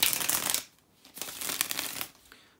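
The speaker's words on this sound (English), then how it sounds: "let me shuffle" A deck of tarot cards being shuffled close up, with soft papery riffling and flicking bursts: a longer run at first, a brief pause, then another stretch of shuffling.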